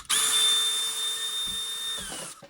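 Cordless Milwaukee M18 tool being opened up as a power driver spins out screws from its gearbox; one steady high-pitched whirring run lasting about two seconds, close and loud, with faint clicks near the end and no talking.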